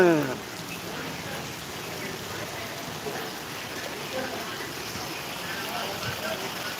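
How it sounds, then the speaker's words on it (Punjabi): Steady rain falls in Balanwali village in Punjab, a continuous soft patter close by, while a person talks. "ਮੀਂਹ ਦਾ ਆਨੰਦ ਲੈ ਰਹੇ ਆ"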